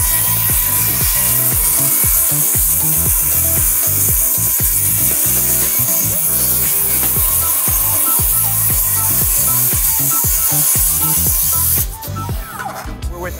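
A new-model power saw cuts through wood in one loud, continuous, gritty run lasting about twelve seconds, then stops abruptly.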